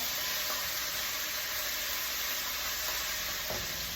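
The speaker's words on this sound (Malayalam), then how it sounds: "ജസ്റ്റ് ഒന്ന് ഇളക്കി കൊടുക്കാം." Ginger garlic paste sizzles in hot oil as it is stirred, a steady close hiss of frying with a few faint scrapes of the spoon.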